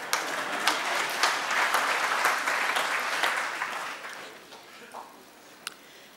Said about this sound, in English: Go ahead, clap, we need a bit of a break.